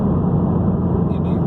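A Toyota GT86 with an OFT tune drops a gear, its engine a steady loud drone throughout, briefly shifting in pitch near the end.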